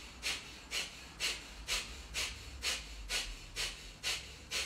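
Rhythmic nasal breathing during a Kundalini yoga exercise, with about ten steady, evenly spaced breaths drawn in and out through the nose, close and soft over a low background hum, no talking.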